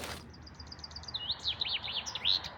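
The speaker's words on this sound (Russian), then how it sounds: "Ух ты, это что за птица?" Birdsong in a forest: a run of rapid high chirps and short whistled phrases, moderately faint, repeating in bursts over a soft background hiss with no talking.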